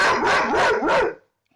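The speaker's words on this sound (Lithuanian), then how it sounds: "Ronkis toks išdykęs šuo" A five-year-old pet dog barks three times in quick succession at a house, close and loud, then falls silent.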